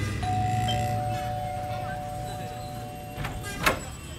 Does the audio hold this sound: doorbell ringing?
yes